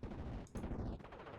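A Focke-Wulf 190 strafes a Jeep in Steel Division, rapid bursts of machine-gun fire crackling in quick succession, moderately loud against a dense rumbling battle background.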